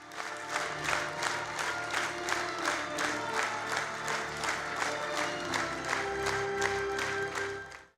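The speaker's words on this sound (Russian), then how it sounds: "Премьера спектакля прошла на сцене Абхазского государственного драматического театра имени Самсона Чанба и была встречена продолжительными овациями" A theatre audience at a premiere at the Samson Chanba Abkhaz State Drama Theatre gives a long ovation, clapping in loud, regular synchronized beats that hold steady before cutting off abruptly.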